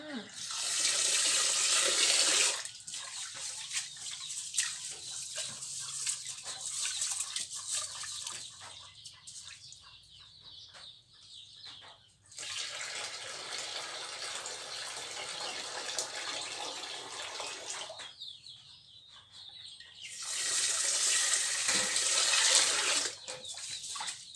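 Tap water runs loudly into a sink while rice is washed by hand, the flow starting and stopping in bursts with quieter rinsing and splashing in between; a rooster is faintly audible.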